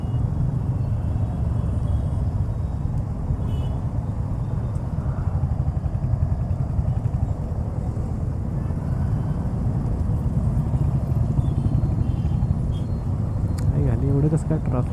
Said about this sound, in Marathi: एवढं कसं काय ट्रॅफिक आहे आज